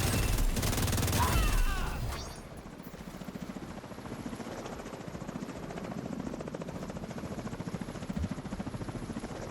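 A helicopter in the video game The Division: a loud burst of gunfire and impacts, then a steady, rhythmic rotor chop that holds at a constant level and stays close.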